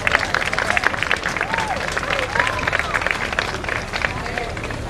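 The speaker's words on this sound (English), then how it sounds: "Can we have a round of applause for our Board of Ed members and our central office staff who support so much of what we do throughout the district." At the Roosevelt High School 2022 commencement, the audience applauds the Board of Education members and central office staff, loud, close clapping with cheers and whoops mixed in over crowd murmur.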